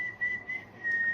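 Someone whistles a cheerful tune, a sustained clear melody heard close and moderately loud in a quiet setting, with a brief pause midway before the whistling resumes.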